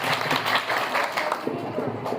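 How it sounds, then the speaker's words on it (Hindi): A crowd claps in a short burst at a school cultural event, the applause close and uneven with individual claps standing out and a voice briefly mixed in. "एक बार जोरदार तालियां।"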